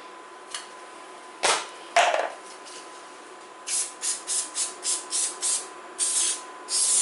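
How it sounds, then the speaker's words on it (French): Pastry baking spray hisses from an aerosol can onto a mould for Portuguese custard tarts: two longer blasts, then a rapid series of about eight short spurts and two final longer sprays, close and clear with no talk. "Donc c'est de la bombe spéciale pour pâtisserie."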